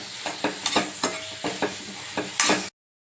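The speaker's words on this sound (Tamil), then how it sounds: "இதுவும் நல்லா பச்சை வாடை போகிற அளவுக்கு வறுத்துக்கலாம்." Chili powder masala stir-fried in a hot pan for fish curry, with sharp rhythmic scraping strokes of a spoon against the pan, about eight of them over a low sizzle, ending abruptly.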